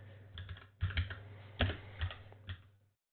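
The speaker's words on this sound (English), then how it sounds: "So I'm going to type that in." Typing on a computer keyboard up close, a few short bursts of crisp key clicks separated by brief pauses in a quiet room, ending in silence.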